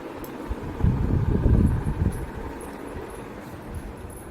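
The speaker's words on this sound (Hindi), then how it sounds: "हवा बहुत ही प्यारी चल रही है, बहुत ही अच्छी हवा चल रही है" Evening wind blows outdoors, a low rushing rumble that swells into a stronger gust in the middle and then settles back to a soft, steady breeze.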